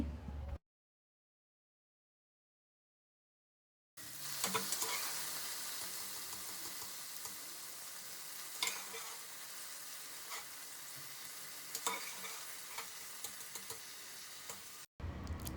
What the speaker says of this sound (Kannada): ಒಗ್ಗರಣೆ ಹಾಕಿಬಿಟ್ಟು ಕಡಲೆ ಮತ್ತು ಸುವರ್ಣಗಡ್ಡೆನ ನಾನು ಹಾಕ್ತಾಯಿದ್ದೀನಿ